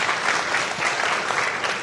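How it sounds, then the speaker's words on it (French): An audience at a public discussion in Montreal applauds sports coaches, with dense, sustained clapping from a sizeable crowd that stays even and loud for the whole stretch. "Ouais, on peut les applaudir"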